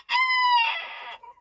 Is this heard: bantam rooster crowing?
yes